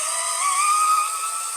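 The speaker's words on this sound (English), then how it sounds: "So I'm just going to drill this hole carefully." A steady high-pitched whine of a small drill boring a hole in rubber runs continuously, close and fairly loud, with a slight shift in pitch as it bites into the material.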